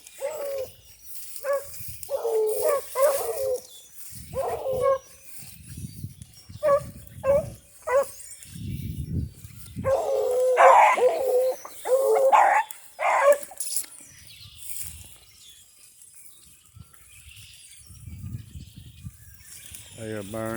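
Rabbit-hunting dogs bark and bay in repeated bursts as they chase a cottontail through brush outdoors, mixed with whimpers, while someone talks intermittently over them.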